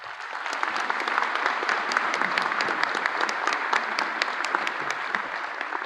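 A convocation audience at a George Brown graduation applauds to welcome keynote speaker Carol Wilding. Dense, steady clapping from a large crowd fills the whole stretch without pause, and no one speaks over it.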